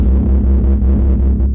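Low, deafening throbbing hum from a nearby data center, a steady droning pulse that swells and dips slightly in a continuous, loud rumble with no voices.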